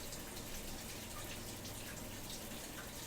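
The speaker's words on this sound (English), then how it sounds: "You just spray some warm water on it." Warm water sprays onto the bottom of a flat bowl, a steady, faint hiss of running water with no breaks or voices.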